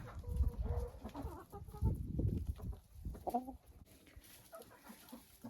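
Hens cluck softly in a poultry enclosure, a few close, low murmuring calls and brief clucks rising and falling at a quiet level, with scuffling movement in between.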